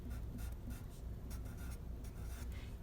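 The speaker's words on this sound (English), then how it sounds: "write your first and last name, or at least your last initial, very neatly on the paper" Someone neatly writes a name on paper, producing soft, quiet scratching strokes in short irregular bursts, close up with no voices.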